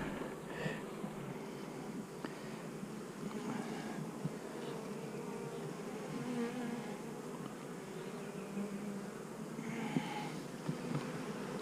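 Honey bees buzz steadily around an open hive in a bee yard, a soft, continuous droning swarm hum with occasional louder passes of individual bees near the microphone.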